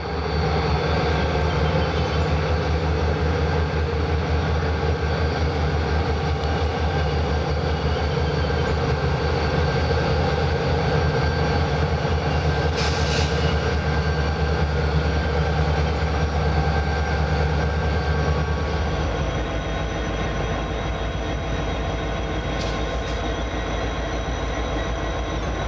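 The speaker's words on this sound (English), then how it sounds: "as an eastbound rolls to a stop for a crew change" A Santa Fe eastbound freight train rolls to a stop for a crew change at the Fort Madison, Iowa division point in 1995. Its loud, steady rumble of wheels and locomotive fills the scene, then the low drone shifts and settles near the end.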